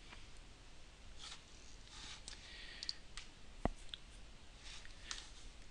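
Mouse clicks while working in a Moodle course page, heard as several short, sharp taps spread across a few seconds, with one crisper click standing out. The taps sit over quiet room noise and no one speaks.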